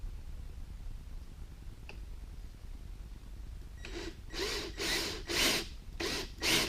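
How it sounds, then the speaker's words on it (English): A drill boring small holes into a guitar fretboard for position markers, heard as several short, loud bursts of grinding after a quiet stretch, close by and evenly spaced. "Best to drill carefully,"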